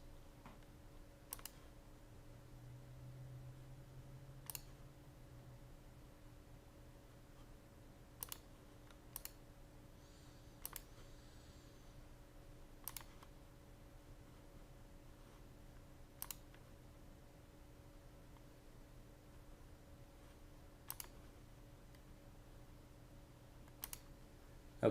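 TI-83/84 graphing calculator keys being pressed, sparse quiet clicks spaced a few seconds apart over a faint steady electrical hum.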